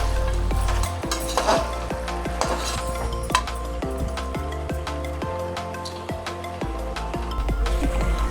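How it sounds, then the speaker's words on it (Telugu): Tomato pieces frying in a pan of country-style village chicken curry, with steady sizzling under repeated metallic clinks and scrapes of a spoon stirring against the pot, close and fairly loud. "ఇప్పుడు ఒక చిన్న సైజు టమాటా ముక్కలను వేసుకోవాలి."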